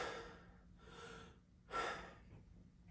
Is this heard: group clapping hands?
no